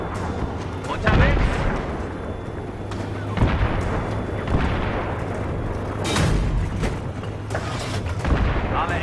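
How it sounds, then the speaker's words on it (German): Tank cannon fire and explosions from a Battlefield 3 campaign tank mission, several loud booming blasts over a steady engine rumble, with voices talking throughout. "Und da kommen auch schon die ersten Schüsse."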